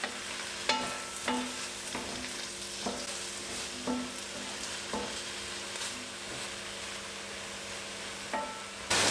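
Vegetables sizzle steadily in a pan for a pork shoulder ratatouille, with a spoon stirring and scraping at irregular intervals, sharp clacks against the pan standing out over the constant frying hiss.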